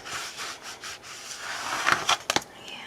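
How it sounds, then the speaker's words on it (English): Adhesive-backed stick fabric being burnished down by hand, a close, soft rubbing and scraping that repeats in short strokes and ends in a few sharper, louder rubs. "when you use with fabric, you have to really burnish it down"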